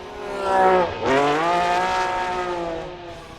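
At a Formula Drift qualifying session in Atlanta, a drift car's engine and exhaust rev high. They dip sharply as the driver lifts off the throttle, then climb again and hold a loud, sustained snarl.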